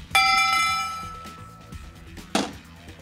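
A half dollar coin falls into a Bell Bucket magician's coin pail and strikes with a loud, sustained bell-like ring that fades slowly, followed by a second metallic clang a couple of seconds later, with no talking.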